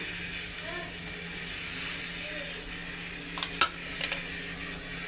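Onions sizzle with ground chili, cumin, coriander and black pepper in a pan for a Bengali jingalu dish, a soft steady frying hiss with a few light clinks of utensils near the end.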